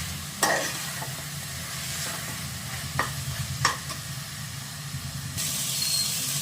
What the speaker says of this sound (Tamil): கறியை வதக்கிக்கலாம் எண்ணெய் பிரிஞ்சு வரட்டும்